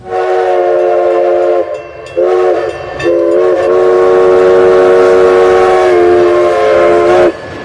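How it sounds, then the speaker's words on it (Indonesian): A train blares its horn in long, loud sustained blasts with short breaks between them, over rumbling rail noise. "ada train, kereta api teman-teman"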